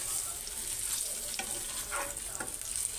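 Eggs fry in a pan with a close, steady sizzle and a few soft stirring scrapes.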